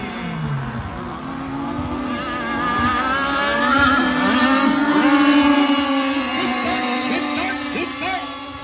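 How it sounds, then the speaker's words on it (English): Superboat racing boats roar off the start line on the water at Melbourne, engines swelling to a loud sustained whine as they accelerate together, heard alone without commentary. "Good start. There goes the game on Mixie Interior. Orange Magnuson chasing him down"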